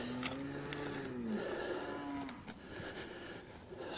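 Cattle on a Brangus ranch moo in two long, clear calls close by, followed by quieter outdoor ambience with faint rustling.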